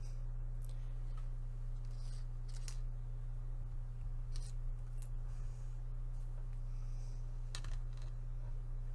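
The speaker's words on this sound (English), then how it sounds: "And cut the threads off quite short." Small scissors snipping off threads behind a sewn button on a junk journal pocket, several faint crisp clicks spaced irregularly over a steady low electrical hum.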